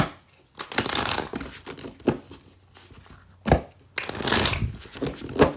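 Two rounds of card shuffling, each a dense papery riffle, separated by short taps and quieter handling of the deck.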